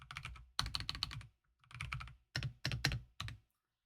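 Keys clatter on a computer keyboard during data entry in a spreadsheet, in quick close bursts of several presses separated by short pauses, with no talking.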